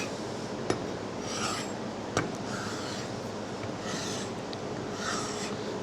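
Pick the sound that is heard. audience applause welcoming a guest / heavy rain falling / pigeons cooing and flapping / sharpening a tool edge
sharpening a tool edge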